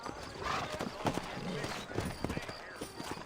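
Horse hooves clip-clop at a steady trot in Red Dead Redemption, the rhythmic hoofbeats running under someone talking throughout, with the ambience of a frontier town.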